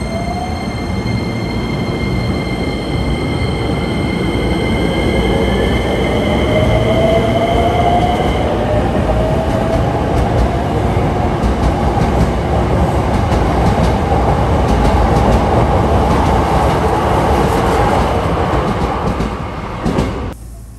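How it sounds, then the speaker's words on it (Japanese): A Hankyu Kyoto Line limited express train departs Takatsuki-shi Station at close range, a continuous loud rumble and rattle of wheels on rails, with a rising electric motor whine and faint squeal as it pulls away. "予定通り特急電車が高槻市駅を発車。"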